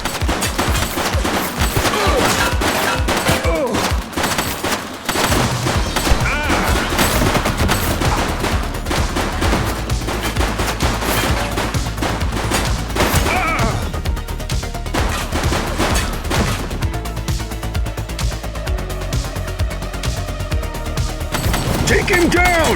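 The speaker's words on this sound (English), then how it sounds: "She's shooting!" Dense gunfire in the police video game The Precinct: rapid bursts and volleys of shots crackle almost without pause over a loud, busy mix of game audio and voices.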